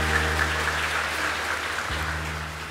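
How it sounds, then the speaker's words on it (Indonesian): A church congregation applauds together during an evening Lunar New Year Eucharist, a steady, dense wash of clapping that fills the space for the whole stretch while sustained organ or keyboard tones hold underneath. "Tepuk tangan buat Tuhan"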